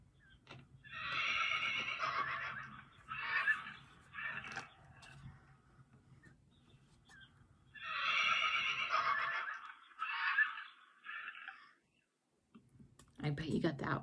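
A horse neighs and whinnies twice in long, loud, shaky cries separated by a pause, with clicking hoof-like clip-clops in between, followed by a brief low sound at the end.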